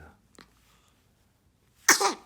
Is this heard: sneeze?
yes